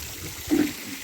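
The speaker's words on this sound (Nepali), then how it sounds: "गाउँमा चाहिँ धाराहरू रहेछ।" Water pouring steadily from a village water spout in the Nepali hills, a soft, continuous splashing rush heard alone for about a second.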